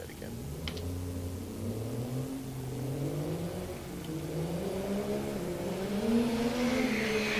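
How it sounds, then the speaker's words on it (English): A drag racing truck does a burnout at a raceway, its engine roaring steadily and building over several seconds with wavering pitch, loud and close, while a race announcer talks over it. "Completes his burnout."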